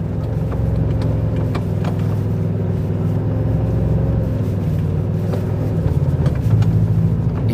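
A 2025 Toyota Tacoma TRD Pro drives through very soft sand, its engine holding a steady low drone with faint thumps and scrunching from the tires as it keeps moving.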